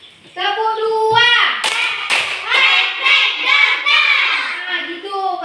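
A class of children claps in unison during a warm-up, producing a few sharp, separate claps among loud group chanting voices.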